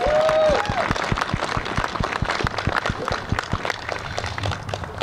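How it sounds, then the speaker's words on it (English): Outdoor crowd applause at a Wreaths Across America Day ceremony in Branford, Connecticut, honoring veterans: steady clapping from many hands, fairly loud and close, with a brief whistle-like tone at the start and continuous crowd noise beneath. "so can we please get a round of applause for them?"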